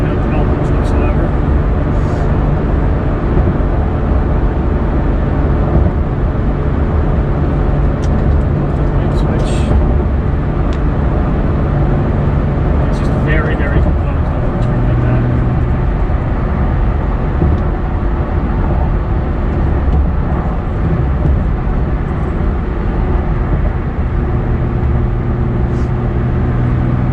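A supercharged 2015 second-generation Toyota Tacoma with a 6-speed transmission drives at highway speed. Its engine and road noise hold a steady, loud, continuous rumble throughout, with no talk over it.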